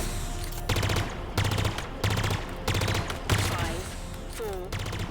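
Pulse Carbine in Halo Infinite firing repeated rapid bursts, each a quick cluster of electronic pulses, about six bursts in a steady rhythm with a faint rising whine near the end.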